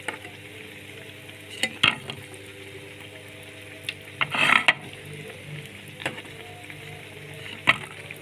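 Egyptian falafel (ta'ameya) frying in hot oil, giving a steady close sizzle and bubble with a few sharp pops and crackles scattered through it.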